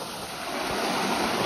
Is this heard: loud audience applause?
no